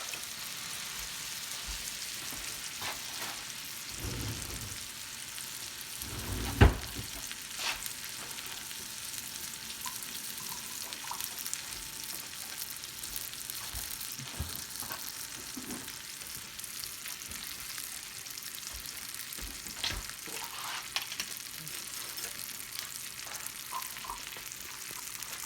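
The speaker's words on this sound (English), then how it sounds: "We're going to start searing the meat now." Beef sears in a hot pan for a roast beef sandwich, giving a steady crackling sizzle with occasional sharper pops and scrapes, fairly close and alone.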